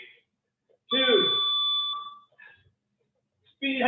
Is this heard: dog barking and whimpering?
no